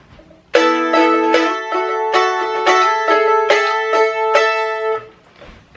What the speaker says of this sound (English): Strum notification. On the mandolin.